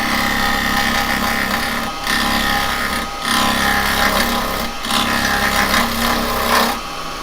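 A wood lathe spins steadily as a spindle gouge cuts across the face of a Halloween skull bowl, a continuous broadband whirring and scraping with brief dips where the tool lifts off, close and loud.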